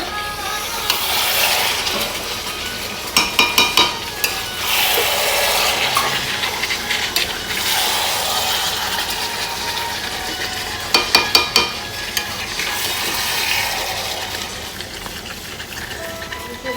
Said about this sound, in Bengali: মাংস কষতে শুরু করে দিয়েছে।